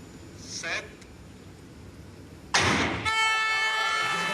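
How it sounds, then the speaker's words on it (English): An air horn sounds during a women's athletics relay race over a murmuring crowd. A sharp burst leads into a loud, sustained blaring tone that carries on to the end. "The air horns sound for the Italians on the outside."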